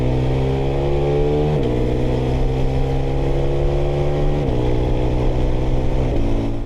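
KTM 390 Adventure R motorcycle engine pulling hard with the quickshifter, a loud rising drone broken by three quick clean upshifts where the pitch drops and climbs again, with no talk.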